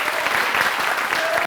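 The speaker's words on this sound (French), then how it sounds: "Tonnerre d'applaudissements pour vous." An audience breaks into loud, dense applause at a televised variety show, a close wall of rapid clapping sustained for the whole moment before it cuts off abruptly.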